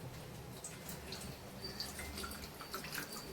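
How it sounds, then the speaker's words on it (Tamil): A small amount of water is poured in a home kitchen while lemon rice is being made, giving a faint trickle with soft drips that sits quietly under background noise. "இதுக்கு லேசா கொஞ்சமா தண்ணி ஊத்திக்கலாம்ப்பா"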